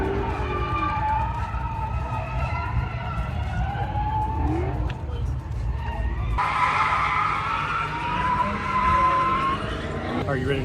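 Car tyres screech in long, sustained skids as a car spins donuts while drifting at an outdoor auto fair, loud and continuous, with a shift in tone partway through and a roaring engine underneath.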